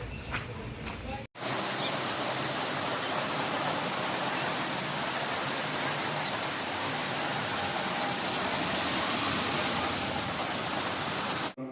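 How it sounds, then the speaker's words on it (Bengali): Light rain falls steadily after a heavy downpour, a dense, even hiss of drops that starts abruptly after a short quieter moment and holds at a constant moderate level throughout. "এখনও টিপটে টিপটো করে বৃষ্টি পড়ছে"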